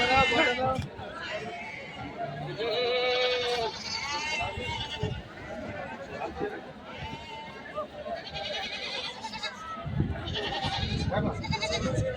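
Sheep and goats bleat repeatedly at Kukanapalli market, a busy village livestock fair, their wavering cries close and overlapping with traders talking nearby throughout.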